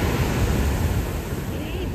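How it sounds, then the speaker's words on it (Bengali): Incoming tide waves washing onto RK Beach in Visakhapatnam, a dense, loud and continuous rush of surf and wind noise with no distinct break. "দেখো জোয়ারের জল আসছে কেমন"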